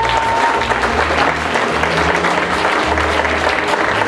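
An audience at a charity association event applauds a guest steadily and loudly, many hands clapping in a dense, unbroken wash throughout, with faint crowd murmur beneath.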